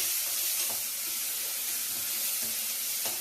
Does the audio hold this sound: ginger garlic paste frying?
yes